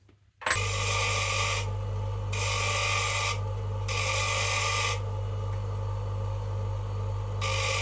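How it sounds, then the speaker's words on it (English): A bench grinder takes the end and diameter down on a small metal pin for an Abloy Classic lock tip: a steady loud motor hum under repeated bursts of harsh grinding hiss that come and go in roughly second-long passes. "So I'm going to take a bit off the end and then take the diameter down, just twizzling it using the bench grinder."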